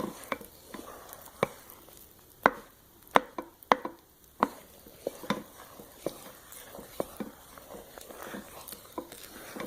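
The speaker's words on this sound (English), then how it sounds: "I'm going to stir this up. It's getting really chunky." Thick, chunky soap batter for a salt bar being stirred, giving a run of sharp irregular clacks and scrapes against the pot, some close and loud, with no talking.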